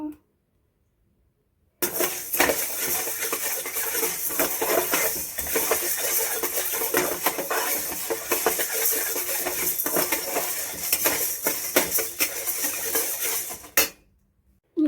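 Black peppercorns dry-roasting in a pan for homemade sambar and curry masala powder, a dense continuous crackle and rattle of rolling, popping grains, loud and close, starting abruptly and cutting off near the end.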